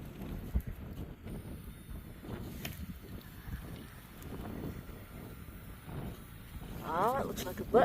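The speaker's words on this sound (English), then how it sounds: "I hope you can hear me over this wind." Gusty outdoor wind buffets the microphone during a metal-detecting hunt, a low, uneven rumble that rises and falls throughout, with someone talking over it.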